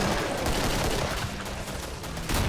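Continuous rapid gunfire in the video game Killing Floor, a dense, loud, unbroken clatter of shots filling the whole stretch with a heavier burst at the end.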